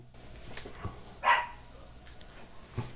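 A dog lets out a single sharp bark indoors, moderately close, amid a quiet background hum.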